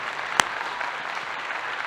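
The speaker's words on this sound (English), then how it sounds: "clap if you think she should suffer" A crowd claps in a dense, steady wash of applause with one sharper clap standing out near the start, with no talking over it.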